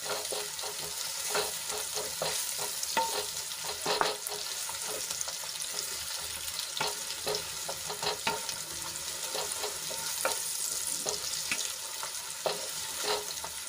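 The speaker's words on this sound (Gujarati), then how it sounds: "ડુંગળીને આછા ગુલાબી રંગની થાય ત્યાં સુધી આપણે એને સાંતળી લેવાની છે" Onion sautés in ginger, garlic and chili paste in a pan, giving a steady, soft sizzle. Irregular scraping knocks from stirring land every second or so, and no one speaks.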